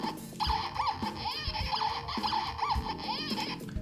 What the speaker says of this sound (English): It just sounds like a squeaking sound effect.